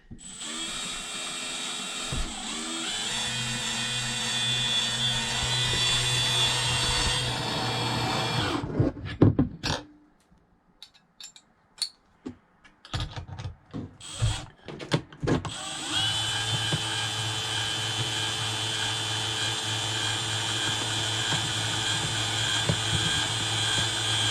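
A power drill with a very long bit driving screws while installing RV blinds whirs steadily, stops for a few seconds of clunks and rattles, then winds up again and runs continuously to the end.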